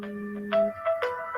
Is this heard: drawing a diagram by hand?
no